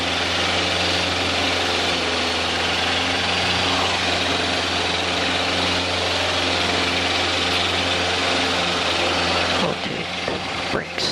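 Small aircraft engine roaring steadily at full power through the takeoff roll, a loud continuous drone with strong low harmonics, close and unbroken before a brief change near the end.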